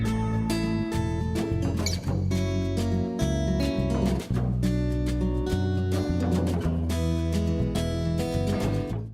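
Boss level music from the video game Mr. Bones plays, a dense, loud instrumental track with sustained tones, strong bass and busy rhythmic layers continuing throughout.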